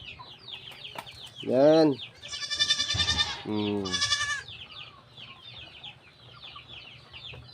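Farmyard chickens clucking nearby in loud bursts, with a few squawks among them, mixed with other birdsong and a short spoken word.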